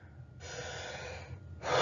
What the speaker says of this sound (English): it would be just normal breathing.